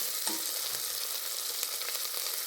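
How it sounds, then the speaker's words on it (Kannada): Green chillies fry in hot oil for tempering with a dense, even sizzle that stays loud and close from start to finish, dotted with small crackles. "ಚೆನ್ನಾಗಿ ಒಗ್ಗರಣೆ ಎಲ್ಲ ಹುರ್ಕೋಬೇಕ್ರಿ."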